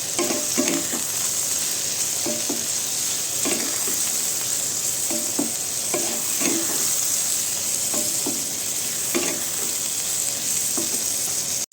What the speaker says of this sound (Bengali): বেগুনের মধ্যে অল্প করে হলুদ আর স্বাদ মতো নুন দিয়ে লবণ দিয়ে ভাজবো